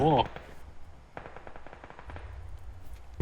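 A Mini14 rifle in PUBG fires a rapid string of evenly spaced game gunshots, preceded by a brief shout, with fainter rumbling shots trailing after.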